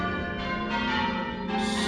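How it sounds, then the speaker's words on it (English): Church bells ring past midnight near a church on the climb toward Kilimanjaro, several overlapping struck tones ringing out and sustaining steadily, with no talking. "church bells are going off"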